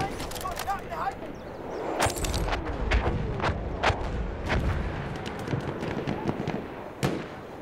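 Heavy artillery and gunfire in Battlefield 1: a string of sharp cracks and booming blasts, some close and loud, others farther off, spread unevenly across the scene with faint voices in the background.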